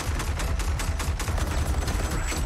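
Gunfire from Cassie Cage in Mortal Kombat 11, a dense rapid volley of sharp shots rattling on continuously at moderate loudness over a noisy game mix.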